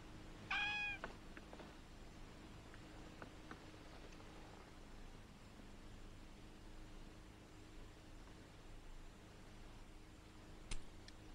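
A cat gives a single short meow near the start, followed by a long stretch of quiet room hiss with faint rustles and a brief click near the end.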